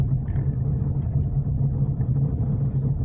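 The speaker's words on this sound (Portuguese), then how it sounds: "agora a gente acelera" A car accelerates out of a turn during a driving lesson, giving a steady, moderately loud mid-pitched engine drone that holds even throughout, with no talk.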